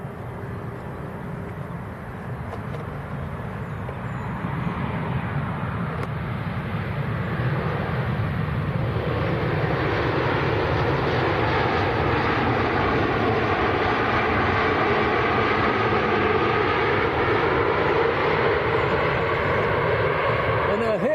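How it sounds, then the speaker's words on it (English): An EasyJet airliner arriving from Rhodes lands at Manchester Airport, its broad engine roar building after the first few seconds and holding loud and steady with a rising whine, while people talk faintly underneath. "Okay, so this is EasyJet from Rhodes."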